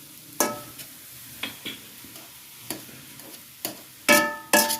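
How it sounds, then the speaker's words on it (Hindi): A spoon scrapes and knocks against a pan while atta halwa is stirred, giving sharp irregular clinks and scrapes over a faint sizzle, with two louder strokes at the end and no talking. "मुसलसल इसे देख लें कि चम्मच चलाते रहना है"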